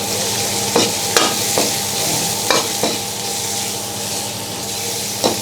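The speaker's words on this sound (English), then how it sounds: "Yeah, and after that we put the chicken." Chicken stir-fried in a wok with garlic and coriander root, giving a steady close sizzle broken by several sharp scraping strokes from the spatula, with no talking.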